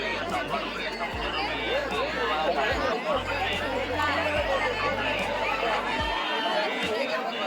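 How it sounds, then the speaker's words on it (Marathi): A dense crowd at the Ekadashi yatra fair in Ratnagiri fills the air with continuous overlapping chatter and babble close around, a voice talking over the steady hubbub. "आणि गर्दी बघा इथे इकडे"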